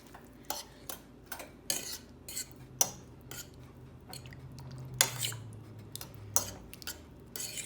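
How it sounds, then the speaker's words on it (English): Pasta sauce being mixed into cooked meat for lasagna, a string of quiet clinks and scrapes of a spoon against the pan in an irregular rhythm, close but faint. "Make sure you mix that around."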